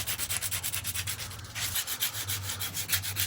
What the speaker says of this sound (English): Remove these L brackets back off the fuel rail once again just to sand down and get ready for painting.